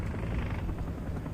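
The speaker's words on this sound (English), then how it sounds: "Okay, that is our helicopter." A helicopter in the War Thunder combat game gives a steady low rotor drone that holds constant throughout, with no speech over it.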